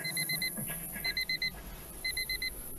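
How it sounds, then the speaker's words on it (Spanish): A bedside alarm clock rings in a young woman's bedroom in the morning, sending three bursts of rapid, high, piercing beeps, four or five beeps per burst, close and clear, with no talk. "Sin abrir los ojos, lanza la mano sobre el despertador."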